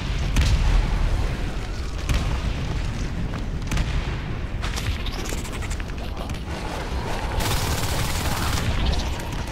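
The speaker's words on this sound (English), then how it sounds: "Grenade launcher in sky." Grenade launcher blasts boom repeatedly through dense battle noise in Natural Selection 2 on the Veil map, deep thuds and crackling gunfire layered in a continuous loud mix.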